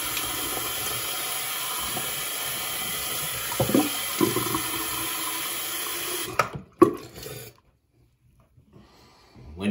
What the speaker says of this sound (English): you're gonna start with washing your face first